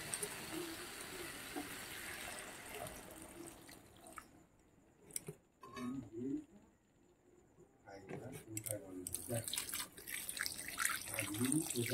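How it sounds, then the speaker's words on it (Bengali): Water is poured into a pan of fish curry made with fresh pond fish, a soft splashing and trickling with brief gaps, close by and fairly quiet. "বন্ধুরা দেখো এবার আমি জল দিয়ে দিচ্ছি।"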